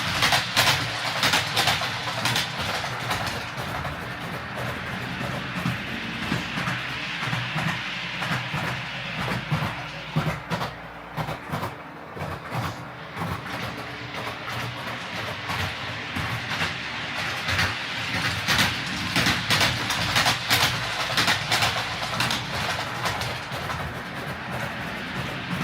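Model railway trains run steadily along the track with a continuous rattling clatter and hiss, fairly close and even throughout, with no voices.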